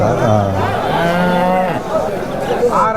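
Native crossbred cattle at a bustling rural livestock market in Tamil Nadu, with low drawn-out moos rising above a steady murmur of crowd chatter and people talking close by.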